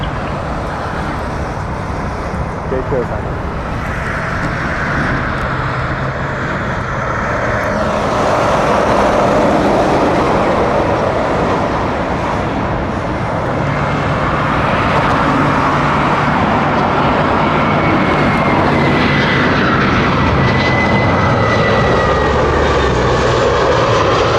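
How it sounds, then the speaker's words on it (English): An Air Canada Rouge Airbus A319 lands at Toronto Pearson near runway 23, its jet engines a loud, continuous broadband roar that swells and holds for over twenty seconds, with faint road traffic beneath. "here's Rouge 1934 in from Saskatoon, coming in for a landing"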